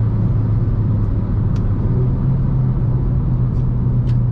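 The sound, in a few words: Renault Clio 4 RS Trophy engine during gear shift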